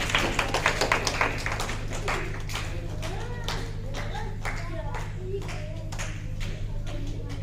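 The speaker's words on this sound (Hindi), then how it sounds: "और जोरदार तालियों के साथ स्वागत कीजिए हमारे आज के मुख्य अतिथि का" Audience applause welcoming the chief guest at a Republic Day celebration, dense steady clapping from a crowd running throughout, with a low steady hum beneath.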